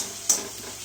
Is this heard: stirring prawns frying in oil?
yes